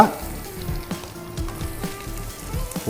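Boiled cauliflower frying in a hot pan, a steady low sizzle with soft stirring scrapes and small clatters, close up and without talk.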